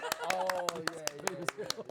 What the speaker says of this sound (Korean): 박수 한번 더 한번 쳐볼까요?